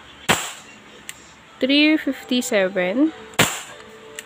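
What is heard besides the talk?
airsoft Hi Capa 5.1 TREX pistol shots during FPS test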